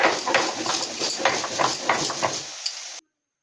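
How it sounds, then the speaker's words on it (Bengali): Cumin and green chillies are ground into a paste with close, rhythmic, rough scraping strokes, repeated steadily, that stop abruptly. "আমরা এখানে জিরে আর কাঁচা লঙ্কাটাকে বেটে নিই"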